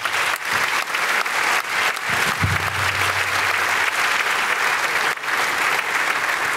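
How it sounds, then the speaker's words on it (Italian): Sustained audience applause fills a hall at an award ceremony, a dense, even clapping that carries on steadily for several seconds with no talking. "A loro facciamo un grande applauso."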